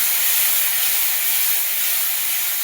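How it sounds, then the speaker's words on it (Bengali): Red chili powder and spices frying in hot oil for a duck egg curry, producing a loud, continuous close-up sizzling hiss that holds steady throughout. "লাল লঙ্কার গুঁড়ো দিয়ে একটু ভালো করে কষিয়ে দিলাম"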